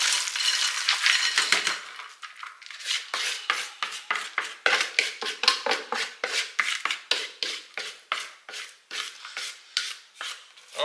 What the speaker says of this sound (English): Again, shaking it, and one last time back into our glass bowl.